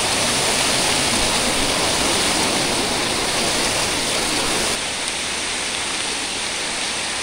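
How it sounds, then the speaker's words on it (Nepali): A large waterfall on a mountain trek roars in a loud, continuous broadband rush, close and steady, easing slightly in level near the end, with no voices. "ठुलो झर्ना रहेछ"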